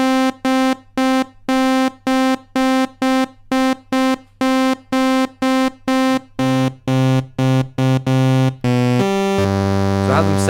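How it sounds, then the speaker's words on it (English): A Roland JX-03 Boutique synthesiser plays two mixed sawtooth waves at different octaves, first as a fast run of short buzzy staccato notes, then shifting to lower notes and ending on one long sustained bright tone. "So I'm going to set both of these to sawtooth waves and just mix the 2."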